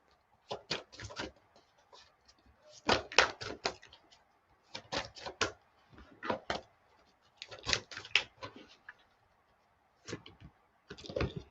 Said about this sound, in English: but I need to shuffle them.